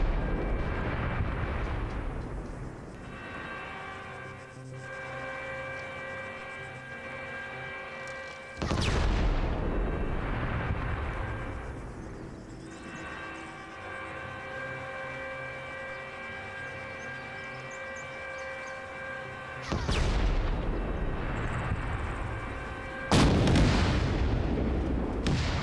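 Heavy gunfire and explosive impacts against a tank in a combined arms multiplayer war game, with loud blasts at intervals over a steady droning engine hum.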